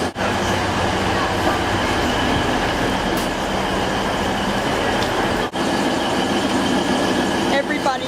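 Steady rumbling of a two-car train in motion in Germany with continuous wheel and rail noise, loud and close, with faint voices mixed in.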